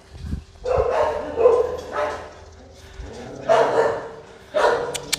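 Shiba Inu dogs at a breeding farm bark in several short bursts, some near and loud, separated by brief pauses, with a faint voice and a whimper between barks.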